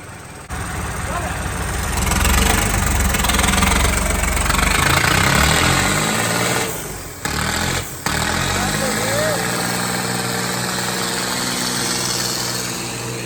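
A tractor engine runs steadily close by, a low rumbling idle with a brief dip midway, while people talk over it outdoors.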